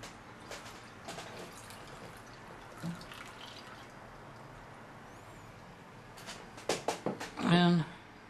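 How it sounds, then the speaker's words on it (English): Water poured from a jug through a tire-fiber filter into a glass trickles and splashes faintly, building to a louder gurgling burst near the end, with a voice talking over it. "we're just going to hold it over this glass. Pour the mess through."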